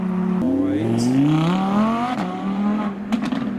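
A TVR Chimera performance car accelerates hard away from a car show. The loud, close engine note rises steadily, dips at a gear change, then climbs again.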